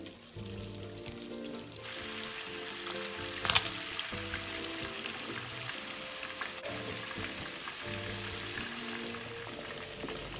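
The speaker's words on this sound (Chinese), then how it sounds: "油约5成热，再将鸡块放入油炸。" Marinated chicken pieces deep-frying in a wok of oil heated over medium flame, a steady loud sizzle and crackle that runs throughout with one brief sharper burst partway in, and no talking.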